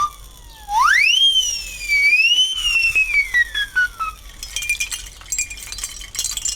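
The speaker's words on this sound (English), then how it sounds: "This is a fireman's whistle called the siren." A fireman's siren whistle is blown alone, its loud tone swooping sharply upward, wavering, then sliding slowly down and fading into faint clatter.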